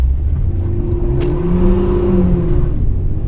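A Lada Granta engine revving hard with the accelerator floored, a loud, steady, close mid-pitched roar that rises slightly and holds for a few seconds, with no talking.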